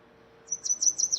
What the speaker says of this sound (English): Yo, warbler sings.